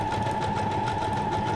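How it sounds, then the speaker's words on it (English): A sewing machine stitching through paper runs steadily throughout, a close, continuous motor whir with rapid rhythmic needle ticking and no talk. "Have a little fun with your sewing machine."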